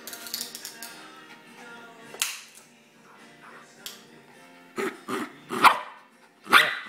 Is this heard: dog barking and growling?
yes